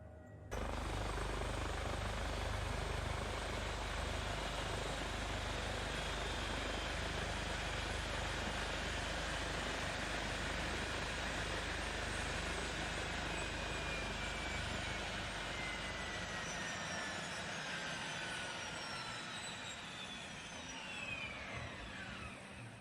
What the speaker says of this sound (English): We will cut the engines.